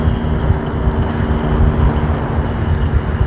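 A HobbyZone Apprentice S 2 RC airplane flying outdoors, its motor a steady, fairly loud drone that holds without break throughout, with no talk over it.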